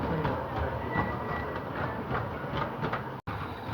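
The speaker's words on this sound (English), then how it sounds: "Our trusty Bagnall rolls slowly through with a passenger train and milk van" A model Bagnall narrow gauge locomotive rolls slowly past pulling a passenger train and milk van, giving a steady, moderately close rattle and clickety-clack of wheels on track.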